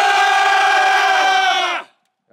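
Airsoft team at a Battlefield rush mode event roaring a loud, unified battle cry that holds steady for nearly two seconds before cutting off abruptly into silence.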